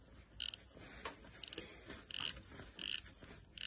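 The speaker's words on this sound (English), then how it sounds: "tightening these head and barrel bolts down" Head and barrel bolts on a Bultaco Pursang 250 motorcycle being tightened by hand, with a series of quick metallic ratchet clicks in short bursts, close and fairly quiet.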